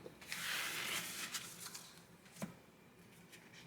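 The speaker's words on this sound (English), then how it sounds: "they're going to shuffle the cards up" Dixit board game cards being shuffled at close range, a soft riffling hiss in the first second followed by a few light flicks and taps, quiet with no talk.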